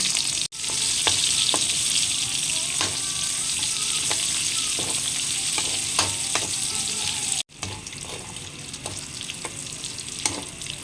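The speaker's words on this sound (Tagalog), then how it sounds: "Kapag brown na yung karne, ay magigisa naman tayo dyan ng sibuyas." Onion and garlic sautéing with browned meat in a little oil in a pan for adobong sitaw, a steady loud sizzle with scattered stirring scrapes and clicks throughout, briefly cut twice.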